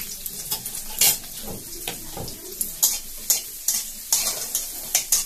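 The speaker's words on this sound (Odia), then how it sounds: "ପିଆଜ ମୁଁ କାଟି ସାରିଛି ଏଥିରେ ପକେଇ ପିଆଜ" Chopped onion frying in a pan on a stove makes a continuous bright sizzle, broken by regular spatula scrapes and clinks against the pan roughly every half second, close and fairly loud with no voices.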